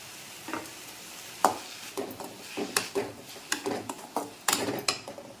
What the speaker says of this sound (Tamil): இப்போ தேங்காய் பூ போட்டு ஒரு நிமிஷம் வதக்கியாச்சு